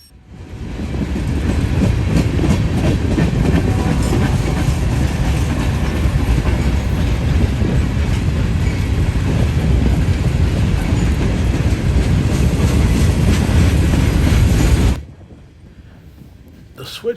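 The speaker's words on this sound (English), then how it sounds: "What is usually a monster train was kind of okay today. About 120 or so cars." A long freight train of around 120 cars rolls past on a siding, a loud, steady rumble with rhythmic clickety-clack from the wheels for about fifteen seconds before dropping away to quiet.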